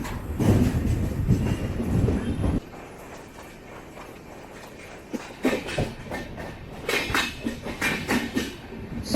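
16301 Venad Express passenger train rolling on rails, with loud clattering and rumbling that drops to a quieter steady run, then returns in rhythmic wheel clicks.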